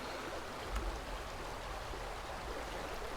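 Rapids of fast-flowing water in the video game Vintage Story, a steady, soft rushing hiss with one faint low bump near the start and no speech.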